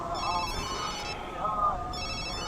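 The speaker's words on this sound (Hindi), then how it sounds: "आपका फोन बज रहा है।" A mobile phone rings with a repeating electronic ringtone in short bursts, heard at moderate distance in an indoor scene from a Marathi film.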